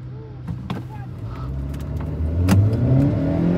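Hyundai Creta Turbo in a drag race against a Kushaq Turbo, its engine accelerating hard and growing louder as revs climb, rising engine tones sweeping upward near the end.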